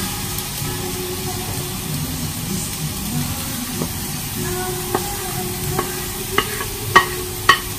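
Gosari (fern brake) is stirred in a pan for a Korean side dish, with a soft steady sizzle and sharp spoon clicks and taps against the pan that grow louder toward the end.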